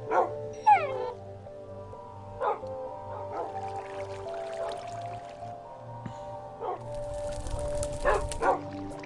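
A hurt dog in the Minecraft video game gives short yips and whimpering barks at intervals over steady game music and ambient tones, moderately loud.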